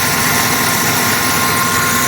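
A 1982 AMC Concord engine runs steadily on its own after being revved, a close, continuous mechanical drone with broadband hiss and no speech.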